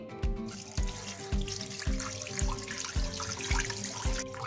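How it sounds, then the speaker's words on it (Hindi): Water pours into a pot for boiling sweet potatoes, a steady splashing stream with regular ringing metallic knocks roughly every half second, fairly close and loud. "अब इसके अंदर मैं पानी डाल दूंगी"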